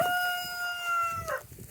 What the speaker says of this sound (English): And the roosters are trying to let us know clearly it's time.